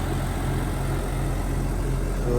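Diesel tractor idling: a Landini Power 164 (also given as a 165) with a 6.7-litre FPT engine runs at a steady, even low rumble throughout, loud and close with no talk over it.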